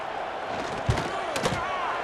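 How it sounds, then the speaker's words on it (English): A college football stadium crowd in a video game murmurs and roars in a broad sustained wash, with a couple of sharp thuds and swells rising briefly above it. "this crowd is buzzing after that last score"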